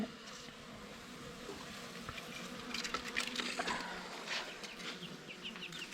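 Honeybees buzz softly at close range during a hive check, a faint continuous drone with small scattered flickers of wingbeats and no talk over it.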